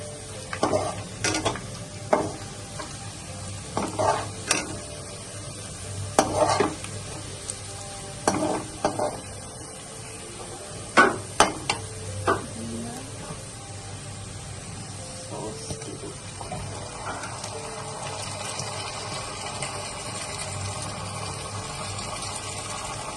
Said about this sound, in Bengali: এখন চিলি চিকেন রান্না হচ্ছে